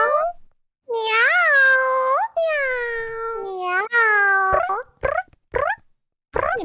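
A person imitates a cat with a string of drawn-out, whiny meows, then several short clipped meows, loud and close with gaps between.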